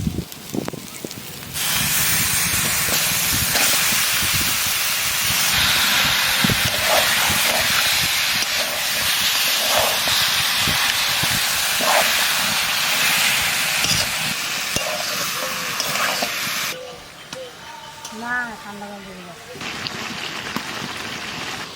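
Chicken pieces hit a pan of cooked-down ground spice paste and sizzle loudly, a continuous close hiss with scattered crackles that drops away near the end as stirring clatters and a voice briefly speaks.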